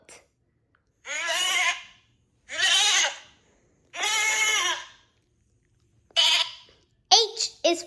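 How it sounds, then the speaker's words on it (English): A goat, played as an animal sound in a children's alphabet app, bleats three or four times in loud, wavering cries with short pauses between them. A brief voice follows at the end. "G is for goat."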